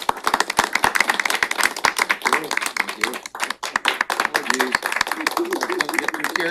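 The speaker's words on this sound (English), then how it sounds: "I believe he deserves a round of applause for his commitment" At a county Board of Health meeting, people clap for a retiring official's years of service, dense close hand claps mixed with speech and voices throughout.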